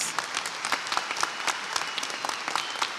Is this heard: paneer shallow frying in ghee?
no